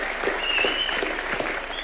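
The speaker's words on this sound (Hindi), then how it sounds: "अनिल सर के लिए तालियां होनी चाहिए।" Steady, dense applause from an audience cheering for actor Anil at a film event, bright broadband clapping sustained throughout with no pauses.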